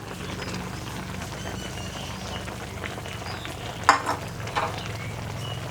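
A fish curry with pickled bamboo shoots simmers in a pot on the stove, giving a steady soft bubbling sizzle with a few louder pops and stirring clinks near the end.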